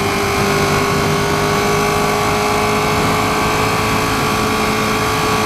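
Steady engine drone from a 2016 Ducati 959 Panigale cruising at freeway speed, a sustained even tone buried in heavy, constant wind rush throughout.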